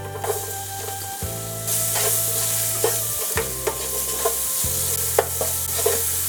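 Garlic, ginger and onion frying and being stirred in a single pot over medium heat, a steady loud sizzle broken by repeated scraping stir strokes, with a low tonal hum underneath and no voices.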